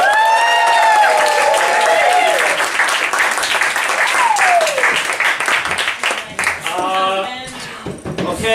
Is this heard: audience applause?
yes